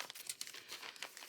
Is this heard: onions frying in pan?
no